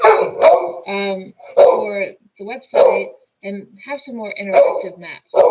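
A pet dog barks in repeated sharp bursts close by, interleaved with a person speaking during an online work meeting.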